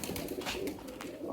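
Pigeons coo softly at a new loft, low murmuring calls over a faint outdoor background, with no one talking.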